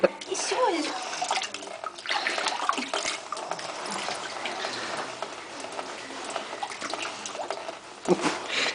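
Water splashes and trickles during a bath as a small child's dirty neck is washed, a continuous close wet sound running under an adult's steady talk.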